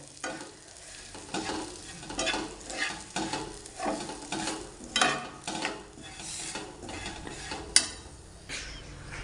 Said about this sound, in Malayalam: എല്ലാം മുളക് കൂട്ടുകളെല്ലാം ഇട്ട് ചൂടാക്കി എടുക്കണം